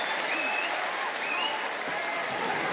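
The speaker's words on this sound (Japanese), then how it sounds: "大きな拍手が湧き上がります。" A crowd at a professional boxing match in Japan breaks into sustained applause, a dense, even wash of clapping filling the arena, with a broadcast announcer's voice partly audible over it.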